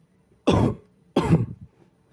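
A mother coughs twice, two short harsh bursts about half a second apart, close and clear against a quiet room.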